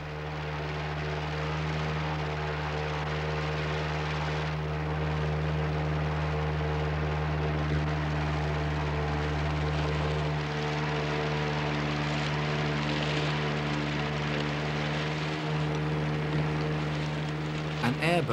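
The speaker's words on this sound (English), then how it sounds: "An airboat will cross any obstacle." Airboat engine and propeller running steadily in a swamp, a loud, continuous droning roar with a deep rhythmic thrum that holds level throughout.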